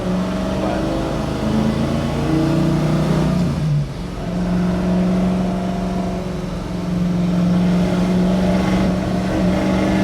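A 1965 Ford Mustang engine runs loudly and steadily up close, droning and revving, with a brief dip in pitch partway through as if shifting gears.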